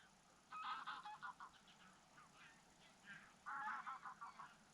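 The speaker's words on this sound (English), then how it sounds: "except these squabbling birds" Geese honk in two loud bursts of squabbling calls separated by quieter stretches, heard outdoors at a fishing spot in the evening.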